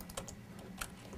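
Several quick keystrokes on a computer keyboard, soft close clicks in a brief burst over a low hum, with no talk.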